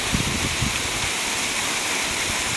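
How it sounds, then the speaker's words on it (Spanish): Small stream with little waterfalls along a canal service road in the countryside, a continuous close rushing and splashing of water, with a few soft low thumps near the start. "Y hay arroyitos con cascadas y todo"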